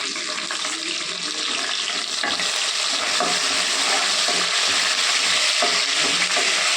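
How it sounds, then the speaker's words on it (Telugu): Curry leaves and small pieces of dried red chilli fry in hot oil with a loud, dense, continuous sizzle and crackle. Stirring scrapes sound over the frying, and there is no speech. "కొద్దిగా వేగాలండి కరివేపాకు."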